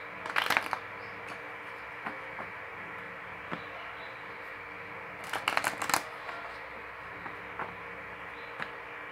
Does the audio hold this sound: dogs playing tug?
no